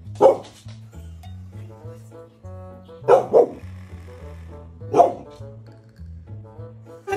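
A dog barks in three short sharp bursts spread over several seconds, close by, over a soft background with quiet tones.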